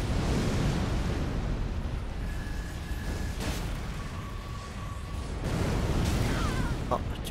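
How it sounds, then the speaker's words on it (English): A heavy, sustained rumbling blast from a boss's explosive attack in the video game Elden Ring, loud and broadband throughout, with sharp bursts near the middle and toward the end. "It's got an explosion attached to it."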